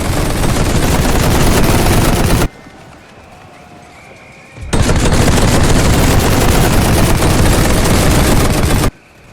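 Dense, rapid machine-gun fire in the World War I strategy game The Great War 6.0, loud bursts of continuous clatter broken by a short quieter lull before resuming.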